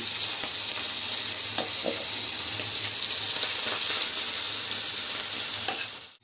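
Hilsa fish frying in oil on a flat pan, a loud, close, continuous sizzle with a few faint scrapes of lifting pieces, no talk, fading right at the end.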